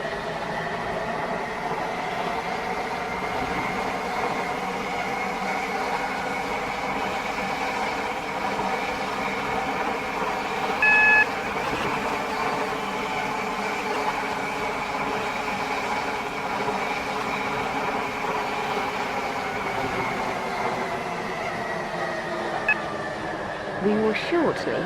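A train in the Roblox game Stepford County Railway rolls along on the Waterline service, a steady low rumble and hum running throughout under an automated onboard announcement voice.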